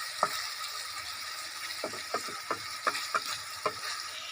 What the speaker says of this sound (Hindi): इसमें टमाटर प्याज शामिल करेंगे।